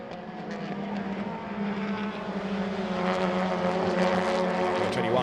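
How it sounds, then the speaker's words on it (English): The number 21 Volkswagen Ameo race car drives past on a circuit, its engine note rising steadily and growing louder as it approaches, alone with no voices. "Number 21 goes by, that being the Amio in the hands of Dhruv Mohita."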